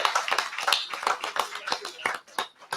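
A round of applause breaks out at a public government workshop after a police lieutenant stands to be recognized: brisk, dense hand clapping from a room of people that thins toward the end, with faint voices mixed in.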